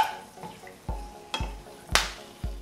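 Whole spices such as green cardamom, cinnamon and bay leaf fry in oil over a medium flame, giving a soft background sizzle broken by four sharp knocks of a spoon against the pot at roughly half-second intervals.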